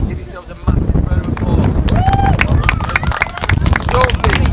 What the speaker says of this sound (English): Give yourselves a massive round of